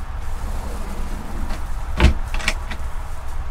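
A large cutlery drawer in a motorhome kitchen slides shut with a short rumbling glide and a thud, followed by a couple of lighter knocks, over a constant background hum.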